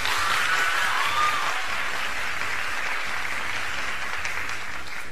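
A TV studio audience applauds steadily, a dense wash of clapping at constant loudness throughout, with a few faint shouts near the start.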